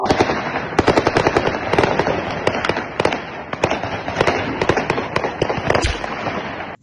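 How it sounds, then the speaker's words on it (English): Rapid bursts of gunfire from street fighting, played back as recorded footage: dense, loud cracks in irregular volleys that continue without a pause. "Straight gunfire."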